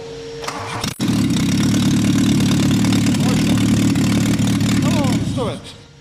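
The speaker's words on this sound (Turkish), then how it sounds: "Şimdi marş yapacağız. Ondan sonra bir sesini duyalım." A Tofaş Kartal SLX fuel-injected car cranks briefly, fires up and settles into a loud, steady idle close by before the engine cuts off near the end.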